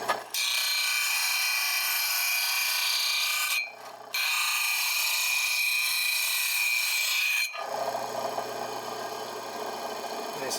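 Old disc sander motor running after a power switch is added, a smooth steady whir with a constant whine that cuts out briefly, restarts, then stops, leaving a softer rumbling tail.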